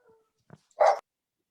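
A dog gives one short, sharp bark during a quiet district advisory board meeting, preceded by a faint whimpering sound, with near silence around it.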